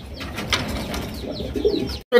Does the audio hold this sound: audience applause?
no